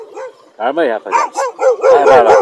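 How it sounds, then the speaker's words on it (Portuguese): Several dogs bark and yelp in bursts near a rural spot around Claraval, Minas Gerais, loud and close, with someone talking over the barking. "Olha o cachorrado."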